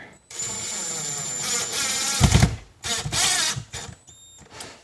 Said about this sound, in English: I'm just basically screwing it right into the sheetrock here.